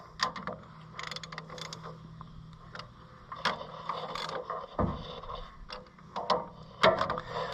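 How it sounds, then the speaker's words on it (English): A long wrench ratchets on the head bolts of an Oliver 1355 tractor, making irregular metallic clicks and clunks at close range, with short mechanical bursts and one heavier knock partway through, and no talk. "Taking the slack out of these bolts so I don't have to sit there and crank the 4-foot long wrench around"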